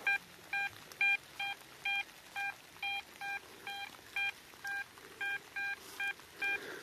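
A steady series of short electronic beeps, about a dozen evenly spaced tones from a Deus metal detector, clear against a low outdoor background.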